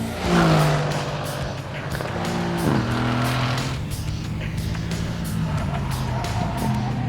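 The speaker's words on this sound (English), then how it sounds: "One thing Mercedes do really well is engines, twin turbo V8 power, and it doesn't disappoint." A 2019 Mercedes-AMG C 63 S with a twin-turbo V8 accelerates hard along a track straight, its engine note rising loud and close as the revs climb, with brief tyre noise and no talking.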